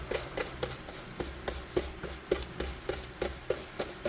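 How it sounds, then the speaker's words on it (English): A big, thick, worn brush with some bristles stuck together is scrubbed over a small model building, pushing paint into cracks; close, steady rhythmic rasping strokes repeat about every third of a second with no talking. "Getting in all the cracks the best I can with this big, thick, nasty brush"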